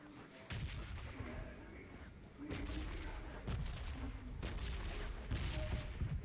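An MK14 rifle fires on full auto in PUBG Mobile, delivering repeated sharp booming shots in quick irregular bursts, loud and close over a steady background.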